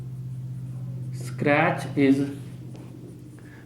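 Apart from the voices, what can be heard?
writing on a board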